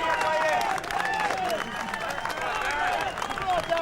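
A golf crowd at the 2006 Ryder Cup gives warm, sustained applause on the opening day, a dense patter of clapping from a distance while a commentator talks over it.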